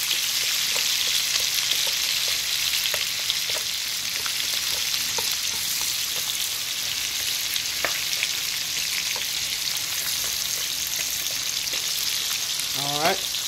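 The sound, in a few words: chopped onion frying in bacon grease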